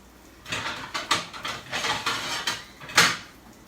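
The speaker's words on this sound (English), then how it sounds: "I had to get a plate out so we could get the tomatoes out" Several clattering knocks and rattles of dishware over a few seconds, ending in a sharper clink, close by with no talking.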